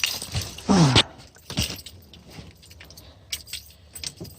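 Keys jangle and rattle near the ignition of a truck in a short bright burst, followed by faint clicks and handling sounds; no engine catches clearly.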